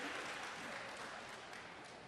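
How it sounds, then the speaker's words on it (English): Audience at a mayoral budget town hall for seniors applauding continuously, a steady wash of clapping that stays fairly even and fades slightly toward the end. "we're going to give you a third round of applause because you're making this happen"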